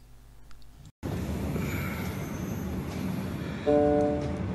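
A train rumbles steadily close by at Höchst railway station in Germany, and a tonal horn or whistle sounds near the end over the continuous rolling noise.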